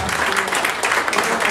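Church congregation applauding for the Lord during a sermon, a loud sustained wash of clapping from many hands filling the moment, with voices mixed into the crowd.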